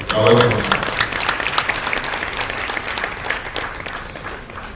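Applause from guests at a surveyors' association luncheon honouring a chief, opening with a brief burst of voice and then a sustained crowd of clapping hands that slowly thins and fades.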